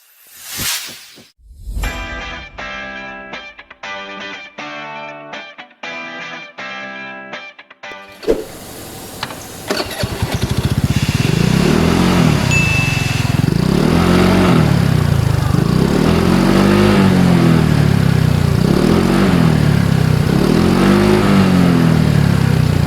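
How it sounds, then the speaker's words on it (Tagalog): An FKM LTS 125 scooter starts with a brief cranking clatter and settles into idle, then rides off with a steady engine drone and heavy wind rush that swells and fades rhythmically, loud and close. "may ibubuga kaya itong FKM LTS 125?"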